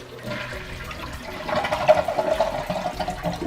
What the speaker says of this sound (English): So once the water's off, you're going to flush the toilet.